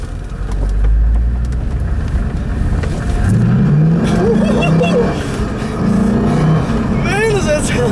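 A 2000 Chevrolet Corvette Convertible's 5.7-liter V8 engine rumbles loudly from inside the car on a back road, then rises in pitch twice as it accelerates hard through the gears.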